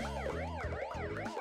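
A loud police car siren wails in quick repeating up-and-down sweeps, layered with multiple tones, heard up close for a short moment.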